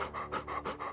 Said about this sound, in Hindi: इतना हाँफ क्यों रही है?